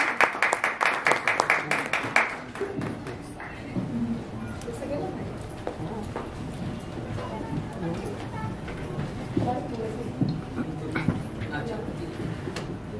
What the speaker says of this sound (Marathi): एकदा जोरदार टाळ्या सगळ्यांसाठी